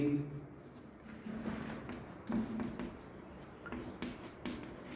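Pen scratching on paper while chemistry notes are written, soft close strokes in short bursts under a man's speech.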